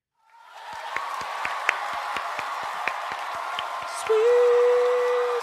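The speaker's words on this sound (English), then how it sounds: "let's get that applause going one more time" Applause sound effect in a retro Disney SNES game finale, a steady, evenly paced run of claps over a soft crowd bed, followed by a sustained electronic tone near the end.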